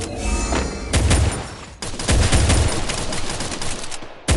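Rapid bursts of video game gunfire, loud and close, with dense volleys broken by brief pauses and heavy low thumps across the stretch.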